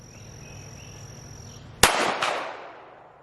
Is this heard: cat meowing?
no